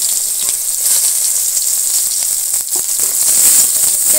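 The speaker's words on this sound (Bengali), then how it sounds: "পেঁয়াজটা ভেজে নেব" Chopped onion fries in hot oil with five-spice, giving a loud, close, constant hissing sizzle with faint stirring beneath, uninterrupted for several seconds.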